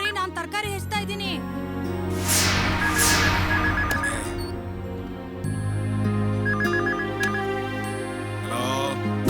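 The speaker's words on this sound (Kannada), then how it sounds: "ಫೋನ್ ರಿಂಗ್ ಆಗ್ತಿದೆ ನೋಡ್ರಿ" A telephone rings indoors in a home setting, repeated electronic ring tones mixed with a busy musical background, fairly loud and continuous, with no speech.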